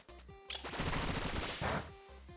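Bullet Seed in Pokémon Scarlet/Violet lands as a short, rapid burst of popping hits, dense and rattling like quick gunfire, over quiet game music.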